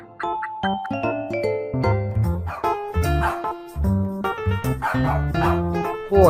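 A dog barks in a run of repeated, close barks set among bright chiming tones, loud and rhythmic throughout.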